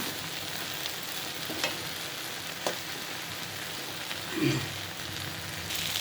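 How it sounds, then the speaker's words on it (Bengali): Okra frying in a pan for a crisp bhaji, a steady close sizzle and crackle with a few soft spatula stirs and scrapes, no talking. "ঢেঁড়সটা আমরা খুবই কম লাড়া দেব আমি যে একটা লাড়া দিয়ে দিচ্ছি"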